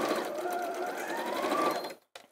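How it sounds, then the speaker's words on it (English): A sewing machine stitches across the corners of fat quarter fabric pieces, a steady close whirring run that stops abruptly near the end, followed by a brief faint sound. "and we're simply sewing"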